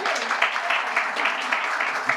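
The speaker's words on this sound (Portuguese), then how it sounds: "Palmas para a Bruna." Audience applause at a breakfast event on AI governance: a steady, dense wash of clapping that holds evenly for about two seconds with no clear pauses.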